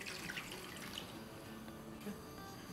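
Water, about one and a half cups, poured into a pot holding roughly a kilogram of mutton chops, a soft continuous splashing trickle at low volume.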